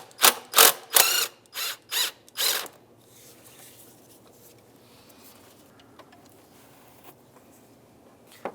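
A hand ratchet backs a 5/16 bolt out of the throttle body bracket on a 2007-2015 Mazda CX-9, with six quick, close bursts of clicking over about three seconds, followed by faint workshop clatter.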